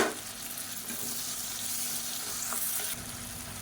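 Onions, green chillies and tomatoes fry in a pan with a steady, loud sizzle and some stirring noise, close up and without talk.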